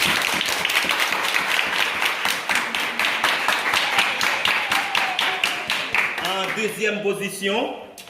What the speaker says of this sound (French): Mesdames, Applaudis, applaudis.